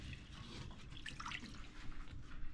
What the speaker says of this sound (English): pretty hot water from the sink